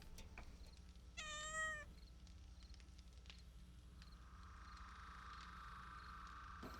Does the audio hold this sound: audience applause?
no